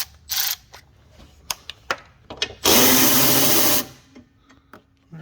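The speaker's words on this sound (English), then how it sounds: "I can just loosen up that bolt" Wrench work loosening a bolt on the alternator of a 2007 Toyota Camry 3.5L V6: scattered metallic clicks and knocks, then a loud sustained rasp of about a second, ending in softer ticking and a faint tone.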